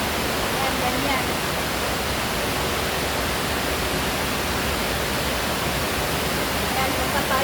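Water pours steadily from the outlet of a rainbow trout hatchery in Norfolk, Arkansas, a loud, continuous rushing roar close by with no pauses.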